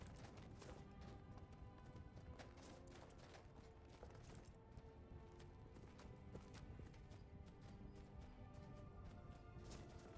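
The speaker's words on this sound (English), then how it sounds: "Bro's horse is running away." A horse in Skyrim galloping away, a faint, dense clatter of hooves under steady game ambience, continuous and low in level with no clear talk.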